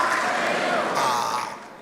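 Dense, steady clapping from a large group fills the whole stretch, a bright continuous patter that fades slightly toward the end.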